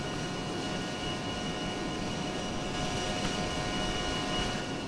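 A-10C Thunderbolt II jet flies in ARMA 3 with a steady, dense engine roar and whine that holds evenly throughout, with no talk over it.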